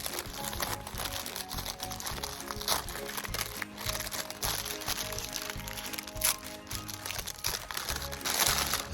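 A bag holding Persian Star hardneck garlic bulbs is handled, giving close, irregular crinkling and crackling rustles throughout, with a few sharper crackles.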